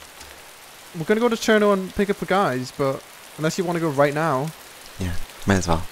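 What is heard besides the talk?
rain in video game ARMA 2 DayZ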